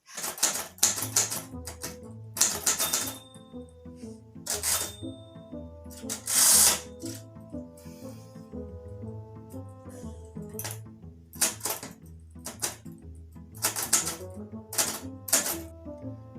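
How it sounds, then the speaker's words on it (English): Children type on an old manual typewriter at home, sharp uneven keystrokes clattering in bursts with a brief bell-like ring and carriage noise, loud and close with no talking. "So it's George's turn to type right now"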